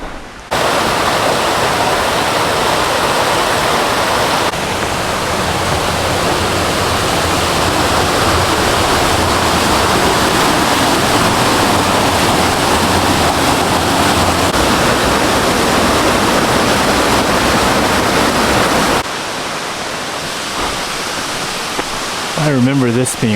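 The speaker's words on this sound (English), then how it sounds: "One of my favorite little waterfalls on the whole trail." Steady rushing roar of a small waterfall on the Appalachian Trail in Maine, broadband and continuous, close by, dropping off near the end with faint rustling.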